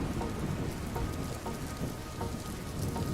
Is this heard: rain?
yes